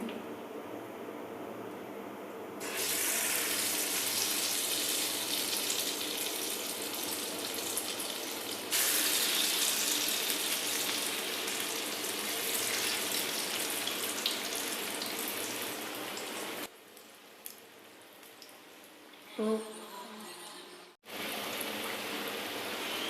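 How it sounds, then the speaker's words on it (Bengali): French fries deep-fry in hot oil with a dense, steady sizzle. The crackle grows louder once the batch is in, then drops away near the end with a few brief clatters and a short pause. "আমরা আমাদের ফ্রেঞ্চ ফ্রাইসগুলো সবগুলো ছেড়ে দিয়েছি, ডুবো তেলে ভেজে নিতেছি।"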